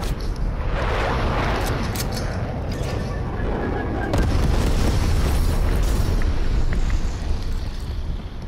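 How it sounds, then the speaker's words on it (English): Napalm strike explosions in Black Ops Cold War roar as a loud, sustained rumbling blast with crackling debris, swelling again midway and persisting to the end. "Enemy napalm strike is coming."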